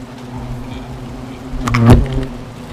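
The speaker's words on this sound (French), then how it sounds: "ça reste du frelon asiatique" Asian hornets buzz around a nest, a steady insect drone with one hornet sweeping loudly past close by near the end before the sound settles again.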